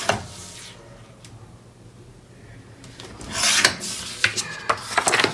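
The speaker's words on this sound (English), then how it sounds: "So I'm going to trim this down so there's not so much overlap." Patterned paper is trimmed down to size with soft scraping and rubbing at first, then louder raspy cutting strokes in quick succession toward the end, close by.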